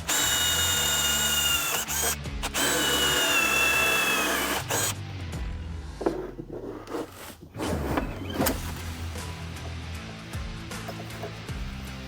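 A drill whirs in two loud bursts while boring a hole in a DIY LED backlit sign, its pitch rising and falling with the load, followed by clattering handling noises and faint movement.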